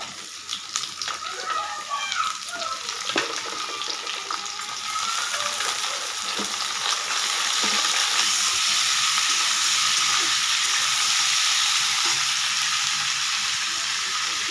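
Jackfruit frying with reddened onions in a pan at home, a steady crackling sizzle that swells louder partway through, with a few scraping stirs early on.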